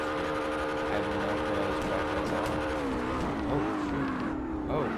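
Car engine in the CarX racing game revs hard and continuously in a low gear, with shifting tonal whine and a brief sideways slide, steady and loud throughout with a voice talking over it.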